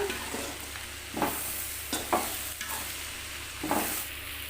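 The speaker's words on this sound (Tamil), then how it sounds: "இப்போ வந்து கொஞ்சம் நேரம் அப்படியே வதங்கட்டும்" Mixed vegetables with chilli powder sauté in a pan, a soft steady sizzle broken by several scraping stirs of a spatula, close and quiet, with no talking.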